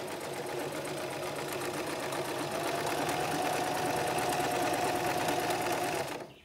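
Domestic Empisal Creations sewing machine running a close zigzag stitch, a fast steady mechanical whir and chatter that carries on evenly for about six seconds before stopping abruptly, with no talking.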